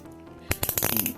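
Turning the knob on a Thunder Punch He-Man action figure gives a quick run of small, close, plastic clicks after a brief quiet start.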